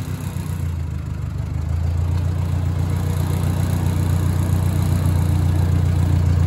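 A tractor engine drones steadily and loudly while cultivating corn rows in a garden, with a low, throbbing rumble that grows slightly heavier as it keeps running.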